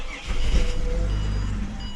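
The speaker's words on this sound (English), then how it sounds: "You're going to just let it start" A Ford Territory engine cranks and catches, then settles into a low steady idle rumble, close and moderately loud, with no talk over it.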